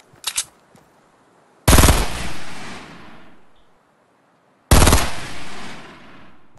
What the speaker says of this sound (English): I still have no idea where they're shooting from.